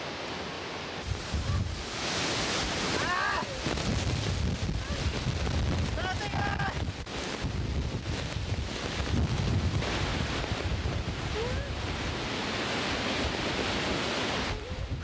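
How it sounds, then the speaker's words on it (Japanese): Strong gusting wind roars at Victoria Falls, a broad rushing noise buffeting the microphone throughout, with water and brief faint voices beneath. "風速20メートルの強風に阻まれ、これ以上は近づけません。"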